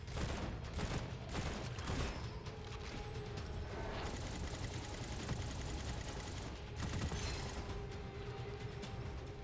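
Rapid bursts of gunfire from the dual fang weapon in a video game, a dense fusillade of shots with mechanical clicks and ratcheting sounds, loud and continuous throughout with a brief lull midway.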